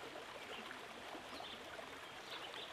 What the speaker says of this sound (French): vous vous approchez du bruit du cours d'eau